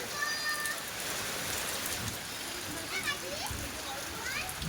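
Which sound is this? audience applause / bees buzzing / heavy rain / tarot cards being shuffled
heavy rain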